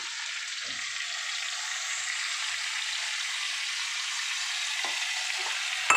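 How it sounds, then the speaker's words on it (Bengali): Sour yogurt whisked with a little sugar goes into a chicken curry cooking in a pan, bringing a steady, even hiss of sizzling with a few soft knocks and a brief clatter at the end, with no voices. "এবার আমি টক দইটাকে দিয়ে দেবো।"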